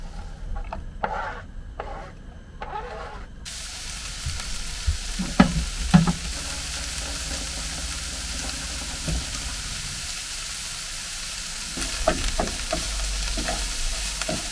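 Garlic, chilies and onions sizzle in olive oil in a pan, a steady bright frying hiss broken by a few wooden stirring scrapes and knocks.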